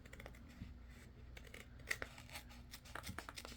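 Small, sharp scissors snip through paper while a monthly journal spread is being set up, making quiet, close, irregular crisp cuts over a low background hum.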